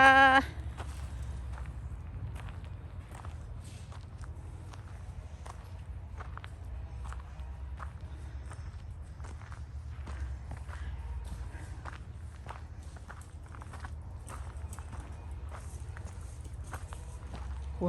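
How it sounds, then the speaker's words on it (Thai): Steady footsteps on a woodland walk in spring, a continuous run of soft, regular steps close by, heard alone over a low outdoor rumble. "เดินออกกำลังกายกัน ช่วงหน้าฤดูใบไม้ผลิ"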